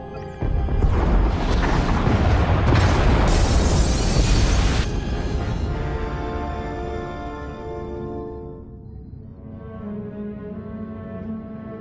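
Escape pod bays blow up in SWTOR with a loud, rumbling blast that roars for several seconds, then fades into a lingering low tonal hum.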